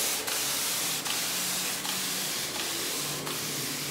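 A spray gun mists pretreatment liquid onto a low-cost t-shirt on a fine setting, a steady close hiss running throughout with several brief pulses between bursts.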